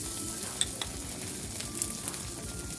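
Chopped tomato fries in a pan as it is stirred, giving a constant close sizzle with occasional clinks and scrapes of the spoon and no voices.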